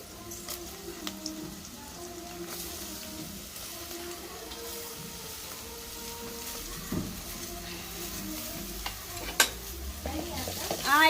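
Ridge gourd pieces with turmeric stirred in a pan in a village kitchen: soft sizzling under scraping spoon strokes, irregular clinks and scrapes, a louder clatter near the end, no talk.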